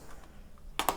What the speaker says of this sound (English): Now I will do the connection by typing the code